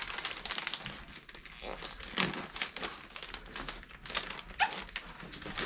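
A cardboard shipping box being folded and taped by hand, giving close, continuous crinkling, rustling and scraping with sharper crackles and tape pulls throughout.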